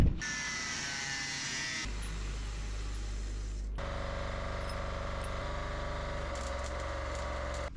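A power tool cuts a piece of metal into three sections while a hatch is built on a boat, a steady close motorized whine that shifts pitch between cuts with brief pauses.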